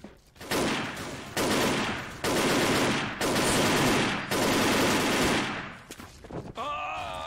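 Sustained automatic gunfire from a weapon in the online shooter Wolfteam, loud bursts of rapid fire broken by brief pauses, ending with a short rising electronic tone.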